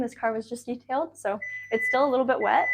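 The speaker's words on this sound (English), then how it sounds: "I apologize for the beeping as well too." A 2023 Kia Sportage EX Premium gives off a steady, high electronic beep tone that starts partway through and continues under a person talking nearby.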